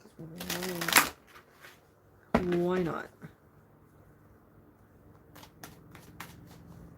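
Two quick bursts of cards being riffle-shuffled, crisp and close, separated by a short pause, with a brief spoken remark and light handling noises afterward.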